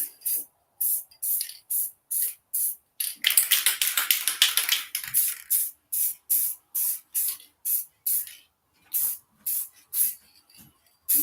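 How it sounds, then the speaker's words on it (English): Spray can of thick tractor paint hisses in a rapid series of short bursts, with one longer continuous spray near the middle, close and loud with quiet gaps between pulses. "I think this tractor paint is a little thicker also than regular spray paint"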